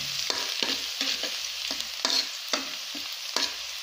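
Garlic and ginger fry in a pan for adobong isaw, a steady close sizzle broken by about eight sharp spatula scrapes and stirring strokes, with no talking.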